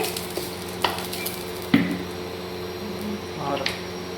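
Whole cumin seeds and a bay leaf sizzle gently in hot oil, with a quiet hiss punctuated by a few crisp clicks and a louder knock as the pan is stirred.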